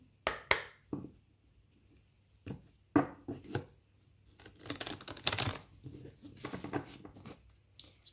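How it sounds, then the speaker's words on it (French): Oracle cards are shuffled by hand in short bursts of soft riffling and slapping, close and fairly quiet, with brief taps and a longer flurry of card noise near the end. "je rajoute une carte tout de suite avec mon oracle qui est là, que je mélange"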